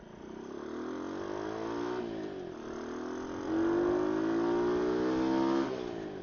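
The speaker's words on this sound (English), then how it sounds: "is the engine noise of the bike, is it coming through this microphone" A motorcycle engine drones steadily while the bike is ridden on an open road, its pitch rising and falling through gear changes, with continuous wind and road rumble and no talk.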